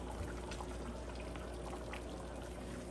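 Sauce is poured into a pot of white beans, giving a soft, continuous liquid pouring and trickling sound heard close up and alone.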